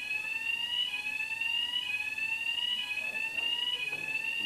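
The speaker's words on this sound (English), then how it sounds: "there you can hear the fire alarm going off in the hotel" A hotel fire alarm rings during a men's pool semi-final, a continuous electronic tone with a steady repeating pitch pattern, loud and unbroken throughout with no talking.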